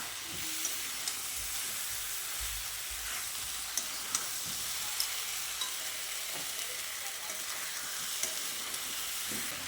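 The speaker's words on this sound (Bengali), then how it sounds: "ভাজা আলুগুলো দিয়ে এঁচোড়ের সঙ্গে ভালো করে মিশিয়ে নিচ্ছি" Green jackfruit and fried potatoes sizzle steadily in hot oil in a pan, with soft scraping knocks from a spatula stirring at irregular intervals, close and continuous, with no talk.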